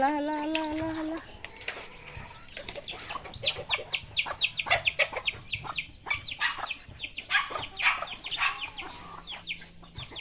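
Chickens cluck and squawk repeatedly in bursts, fairly close, with some busy background noise and an occasional higher call.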